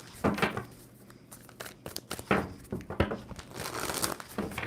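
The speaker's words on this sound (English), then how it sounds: "Two more shuffles for Gemini." Close-up crisp riffling and shuffling of tarot cards in several quick bursts separated by short pauses, soft papery flutters and taps.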